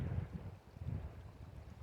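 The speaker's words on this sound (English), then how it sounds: "Come on, wind, settle down." Gusty wind buffets the microphone with low, rumbling bursts that rise and fall unevenly, with no voices present.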